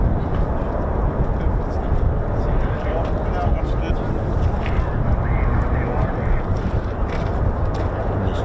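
F-35 fighter jets departing RAF Lakenheath, a dense continuous low engine roar with wind buffeting, loud and sustained across the whole stretch.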